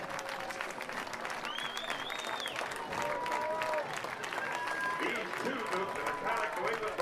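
A home crowd at a Cape Cod League baseball game at Veterans Field applauds steadily as a player walks off, the clapping running underneath a commentator's voice throughout.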